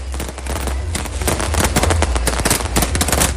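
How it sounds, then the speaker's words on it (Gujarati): Dense, rapid bursts of hand-held firecrackers crackling and popping continuously in the Patel Chowk area, loud and close, with a steady low rumble underneath and no pauses. "આ શખ્સ જે રીતે ફટાકડા ફોડી રહ્યો છે"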